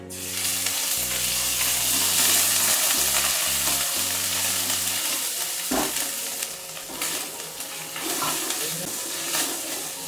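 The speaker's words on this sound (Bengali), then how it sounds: "আদা শুকনো লঙ্কাটা একটু আমি তেলের মধ্যে নেড়ে নিচ্ছি।" Ginger and dried red chili paste stirred in hot oil for a vegetarian potato curry, giving a steady loud sizzle and frying crackle with scraping spoon strokes throughout, no talking.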